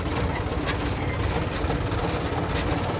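A tractor engine runs steadily in a field while it pulls out barbed wire fencing, a constant low throbbing drone at close range with no speech over it.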